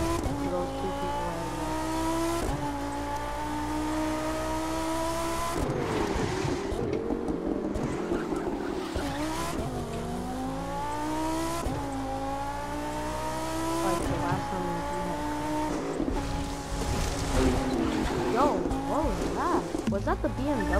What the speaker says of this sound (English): Was that the BMW? Because that sounds good.